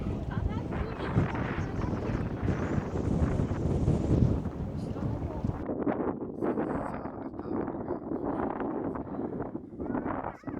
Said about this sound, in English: Oh, so windy too.